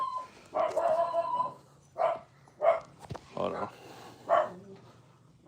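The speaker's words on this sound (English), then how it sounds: "There's the doggies" Dogs at home bark in several sharp separate bursts, fairly near and loud, with a voice briefly speaking among them.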